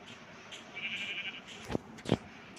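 A Minecraft sheep bleats twice in short, wavering calls about half a second apart, fairly near, with soft background game ambience and no talking.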